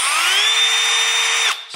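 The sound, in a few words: Milwaukee M12 FUEL hammer drill drilling at max setting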